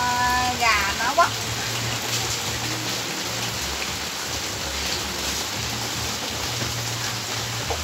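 Steady rain pours down continuously, a dense hiss of drops with a person talking over it.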